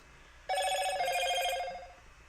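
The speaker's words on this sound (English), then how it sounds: "you're being way too loud, phone" A phone rings once with a bright, rapidly trilling electronic bell that starts suddenly, holds for about a second and a half, then fades out.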